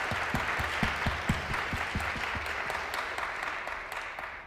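Conference audience at a tech event gives a big round of applause, a full, steady roar of clapping with some low thumps early on, gradually easing over four and a half seconds.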